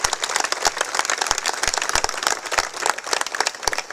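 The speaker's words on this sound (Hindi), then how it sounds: "एक बार जोरदार ताली बाबा के लिए बजना" Loud, dense applause from a large crowd at a Hanuman Jayanti religious gathering in Rajgarh, honoring a spiritual speaker, with steady clapping filling the whole stretch and a few sharper individual claps standing out near the front.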